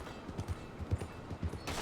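A horse's hooves clip-clop in a steady rhythm while riding in Red Dead Redemption 2, fairly faint and close, with no talk over them.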